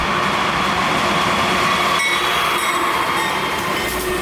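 BNSF mixed freight train rolling steadily past near Tulsa, a continuous loud rumble of railcars with faint wheel clatter and squeal throughout, no pauses.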